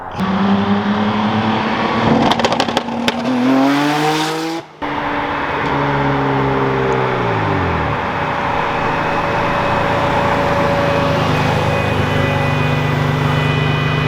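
A 700 hp V6 all-wheel-drive Honda Civic on a 76mm big single turbo revs hard and loud through the gears, with a brief break at a gear change, then pulls on in a steady, roaring climb.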